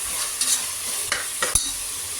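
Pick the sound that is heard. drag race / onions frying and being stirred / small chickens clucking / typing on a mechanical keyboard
onions frying and being stirred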